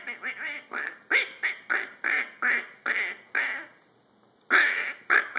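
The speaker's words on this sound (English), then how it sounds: "Is that your very favorite duck, Wesley?" A squeaky rubber duck toy squeezed over and over in a quick, even rhythm, then a short pause before two more loud squeaks.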